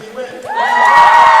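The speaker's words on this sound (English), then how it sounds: "I can tell you there's a big crowd down there cheering on the Spartan boys" Student spectators at a boys' high school swim and dive sectional cheer loudly, with shouts and whoops rising quickly into a sustained, close roar of many voices.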